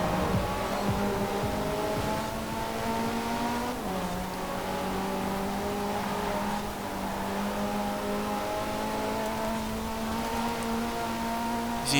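A GT car's engine holds a high sustained rev above 7,000 RPM in the Forza Horizon 4 racing game, a steady droning whine with one brief pitch drop partway through as the car shifts.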